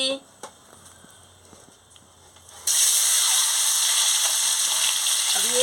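Eggs rubbed with salt and turmeric are dropped into very hot oil in a pan, and a loud, steady sizzle suddenly bursts up and keeps going after a quiet start.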